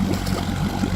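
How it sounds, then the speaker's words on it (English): A 1960 Johnson 5.5 HP outboard motor runs steadily on the water with a loud, low, even drone and no break in the sound. "we are on hour 2 of the engine running"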